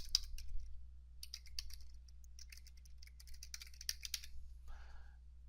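Website text is typed on a computer keyboard in quick, light clusters of key clicks with short gaps, quiet and close over a low steady hum, with no voices.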